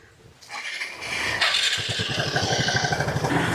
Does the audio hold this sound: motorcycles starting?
yes